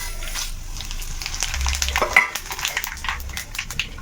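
Mustard seeds, cumin and dried red chillies crackle and sizzle in hot oil up close, with a few light utensil scrapes and clinks against the pan.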